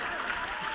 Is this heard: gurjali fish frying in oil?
no